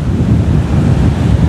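Beach surf rolls in continuously, loud and close, with heavy wind buffeting the microphone and no voices.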